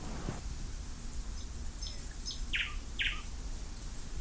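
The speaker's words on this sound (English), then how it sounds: "You hear the birds tweeting." Birds tweeting outdoors in two or three brief, bright chirps, faint and somewhat distant over a steady low background hum, with no talking.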